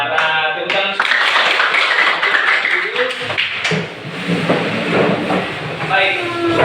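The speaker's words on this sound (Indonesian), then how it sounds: "Tepuk tangan." A group clapping hands in a school session, rhythmic bursts of claps joined by voices chanting and speaking over them.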